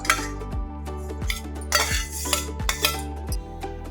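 Ridge gourd paste being stirred with fresh yogurt in a bowl, a spoon scraping and clinking against the sides in a steady rhythm of close, repeated strokes, with no voices.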